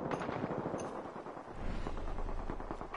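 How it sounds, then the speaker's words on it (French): Gunfire in a video game: rapid, dense bursts of shots close by, continuous for a few seconds with a deeper booming layer joining midway. "Getting shot at."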